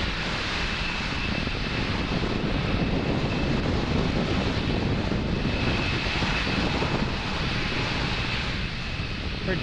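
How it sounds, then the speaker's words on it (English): A SpaceX Falcon 9 rocket with Merlin 1D engines lifts off from Space Launch Complex 40, a continuous broad roaring rumble heard from a distance, steady and wind-buffeted for the whole stretch with no voices. "Falcon 9 clearing the tower at Space Launch Complex 40 and making its way to orbit"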